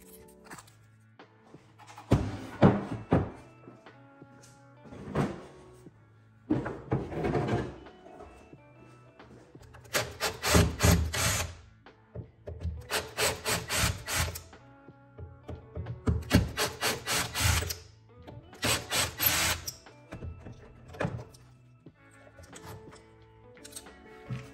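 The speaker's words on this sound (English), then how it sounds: "All of the wooden drawer tracks look like they're in good condition." Old wooden drawers from a Sears furniture piece slide in and out on wooden tracks, giving repeated rough rubbing scrapes in several separate strokes with pauses between, close and fairly loud.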